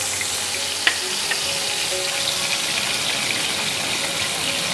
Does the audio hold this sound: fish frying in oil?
yes